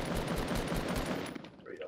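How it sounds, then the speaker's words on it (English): Rapid machine-gun fire in the Fortnite video game rattles in a fast, loud, regular burst before cutting off and giving way to quieter game sounds. "they're shooting at me"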